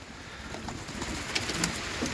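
Soft, low pigeon cooing drifts in over a steady background hum, a few muffled coos close together with no talking.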